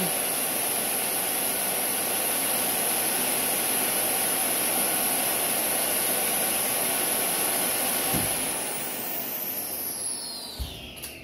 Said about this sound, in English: We will hit start and you will see immediately it has drawn down. We've got suction